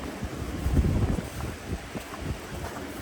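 Steady wind gusting across a microphone outdoors while snow blows at a 540-metre-high resort in Sochi, a dull continuous rumble with no voices.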